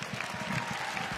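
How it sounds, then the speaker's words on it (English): Room of people clapping after an NHL draft pick is announced for the Buffalo Sabres, a light, moderately distant patter of applause holding steady. "Yeah, they're clapping for you."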